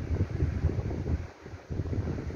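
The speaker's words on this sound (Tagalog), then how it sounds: "12 volts DIY electric fan." A homemade 12-volt DIY electric fan driven by a 12-volt motor, running with a steady low whirring rumble that briefly dips before resuming, close to the microphone and heard alone.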